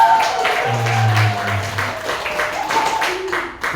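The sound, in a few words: applause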